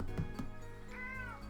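A pet cat meows loudly and near in a drawn-out, rising-and-falling call that follows a couple of shorter sounds, with no one talking.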